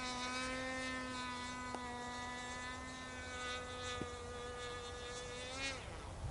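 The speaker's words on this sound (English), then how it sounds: "That is a great flying plane." A J-22 radio-controlled model camera plane flies overhead, its small motor giving a steady high buzzing whine that shifts pitch as it passes and fades at the end, heard from the ground.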